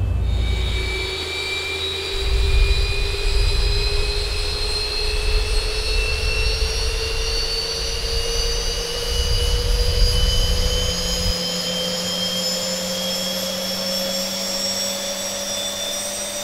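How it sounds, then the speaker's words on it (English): Boeing 737 engine number 2 spooling up during start in the X-Plane 11 flight simulator: a steady rising turbine whine with climbing high tones over a low rumble, continuous and fairly loud with no talk. "so we'll go for engine number 2. Start valves open. N2 is now increasing."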